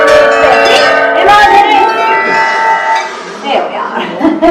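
A magic bell enlarged by a wand spell at Universal Studios Hollywood rings loudly and sustained, ringing tones fading over a few seconds with crowd noise and voices underneath.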